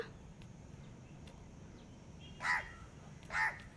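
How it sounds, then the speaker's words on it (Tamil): Two harsh crow caws, about a second apart, ring out over a low, steady background rumble. "காக்கா கத்திக்கிட்டே இருக்கு"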